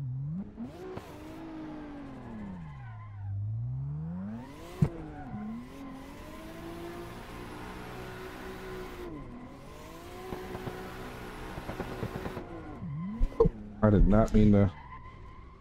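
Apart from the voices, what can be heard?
car skidding after yanking the e-brake, video game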